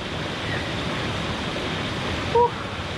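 Fresh running water spills over the edge of a spring-fed pool at a resort and camp site in San Pablo, Laguna. It makes a steady, close, full rushing wash, and a brief faint tone briefly cuts through near the end.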